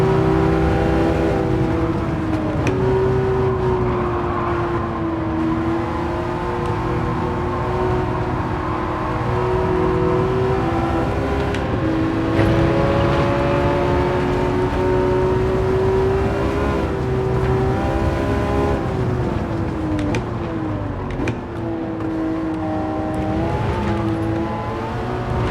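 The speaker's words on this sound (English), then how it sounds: "This car sounds pretty epic." A race car engine in Gran Turismo 7 roars loudly and steadily throughout, its droning pitch rising and dipping with the revs while the car is driven at speed, with no voices over it.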